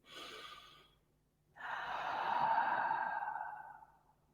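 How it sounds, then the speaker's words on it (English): A quick nasal inhale, a pause, then a long, soft, airy exhale through the mouth, close up with no talking. "you can just do a silent exhalation"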